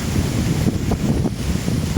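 Strong outdoor wind roars steadily and loudly across the microphone for the whole stretch, buffeting it in gusts with a deep rumble and no talking.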